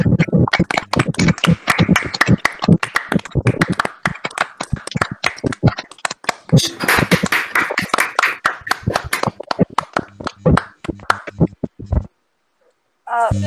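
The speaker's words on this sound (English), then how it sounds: "So round of applause for all our speakers." Claps from a small group of participants at a discussion on feminism applauding the speakers, sharp and close with an uneven rhythm, sparse rather than a full crowd roar, before a short silence near the end.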